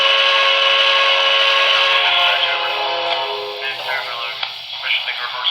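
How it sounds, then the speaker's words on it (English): Steam whistle of a BLI PRR J1a 2-10-4 model locomotive, one long, steady multi-tone blast that sounds clearly and then tapers off, followed by faint clicking. "We're going to try the whistle."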